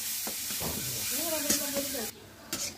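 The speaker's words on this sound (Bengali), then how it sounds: "পেঁয়াজ আর মরিচ তেলে ভেজে নেওয়া হচ্ছে।" Onion and chili frying in mustard oil in a village kitchen give a steady close hiss and sizzle over about three seconds, with brief stirring knocks and a faint tonal hum partway through.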